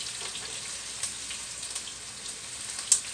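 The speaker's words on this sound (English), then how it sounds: "We're going to saute them just a little bit." Onions sauté in grease in a frying pan, a steady bright sizzle with small scattered pops and one sharper crackle near the end, close and continuous, no talking.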